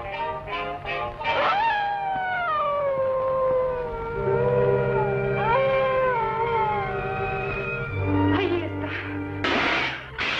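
A dog howls in long, wavering, drawn-out cries that rise and fall, some overlapping with lower tones, fairly close with no speech over them.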